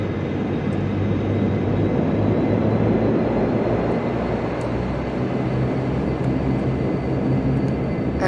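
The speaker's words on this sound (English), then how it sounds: "Taxi over to runway 26." Dash 8 Q400 turboprop taxiing to runway 26 at Helsinki in Flight Simulator X, a steady low engine drone with a broad rumble that holds evenly throughout, no voices.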